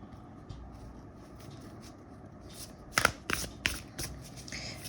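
Tarot cards being shuffled and drawn, with faint rustling that gives way to a few crisp, close snaps and riffles of the deck near the end, over a quiet room.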